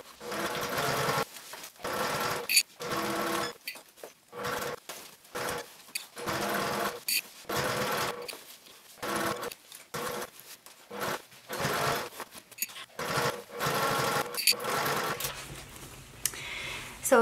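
A sewing machine stitches a foam bag in repeated bursts of rapid mechanical whirring, each run lasting a second or two and separated by short pauses, close and fairly loud with no voices.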